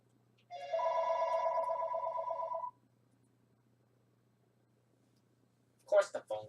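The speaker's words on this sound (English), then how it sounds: "And of course the phone goes off." A phone rings indoors during puppy training, a single steady electronic ring lasting about two seconds, fairly clear against a quiet room, followed by a short burst of nearby noise.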